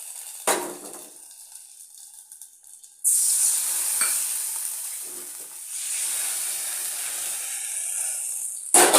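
Mustard seeds, chillies and curry leaves splutter in hot oil for a tempering poured over a curry, a loud bright sizzle bursting in suddenly and hissing on steadily, with a few clanks of a pan.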